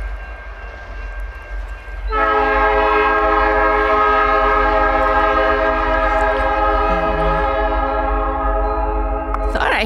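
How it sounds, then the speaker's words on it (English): A Canadian National train horn blares loudly and steadily for several seconds on a snowy day, sustained over the rumble of the passing train, with faint voices underneath. "now that the train's here"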